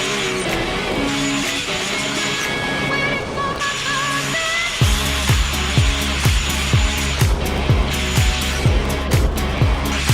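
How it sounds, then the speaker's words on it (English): Loud, continuous mechanical grinding of rust off a sailboat's metal keel, with a rough, gritty texture, joined halfway through by a steady series of heavy rhythmic thumps. "you've just got to grind away all the rust"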